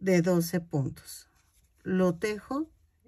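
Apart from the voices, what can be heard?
No distinct noise like a dog, phone or traffic.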